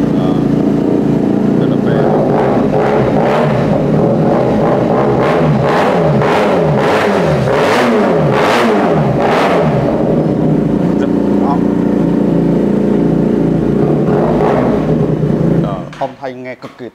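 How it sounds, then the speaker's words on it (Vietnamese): A twin-cylinder motorcycle engine idles with a deep, gruff tone, then is blipped through a series of sharp rising and falling revs before settling back to a steady idle, close and loud. "Mẫu mô tô hai máy, mẫu này thì nghe tiếng máy cực kỳ hầm hố rồi."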